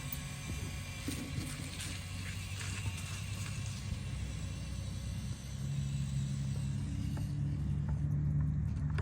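RC crawler car on slow crawl mode working its way up an obstacle, a steady low motor whine and rumble throughout that rises slightly in the second half.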